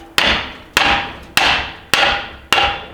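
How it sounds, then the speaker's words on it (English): Five sharp metallic hammer blows strike a car differential cover at a steady pace, each ringing briefly before the next strike, close and loud with no talking. "break it loose with the hammer"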